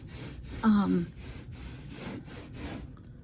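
Rhythmic back-and-forth scrubbing strokes while permanent marker is cleaned off with The Pink Stuff cleaner, close and repetitive, with a brief voice sound near the start.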